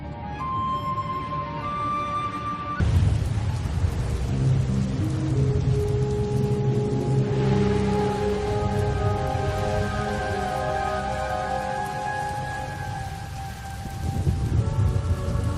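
Storm rain and thunder in Star Wars: The Old Republic, a steady hiss of heavy rainfall with a rumbling thunder swell, layered under sustained musical tones.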